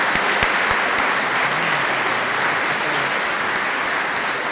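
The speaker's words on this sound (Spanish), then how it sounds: "aplauso enorme por la exposición" Audience applause at a national real estate professional forum in Buenos Aires: dense, steady clapping that fills the whole stretch at a constant level, with no talk over it.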